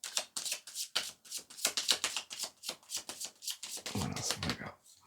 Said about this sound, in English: it's hard to shuffle with my arms out like this